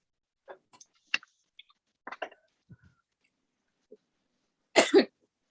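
Scattered small clicks and light throat sounds indoors, then one loud close cough near the end, with quiet gaps between.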